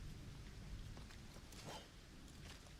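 Rain falling in the video game LEGO Fortnite Odyssey, a faint, steady hiss of wet noise that continues evenly throughout with no talking.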